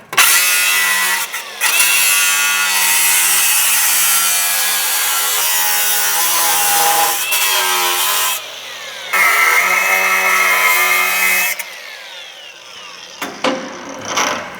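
Snips cutting metal during a brake upgrade on a street car, loud continuous rasping and grinding cuts in several long stretches with short pauses, close and without talk.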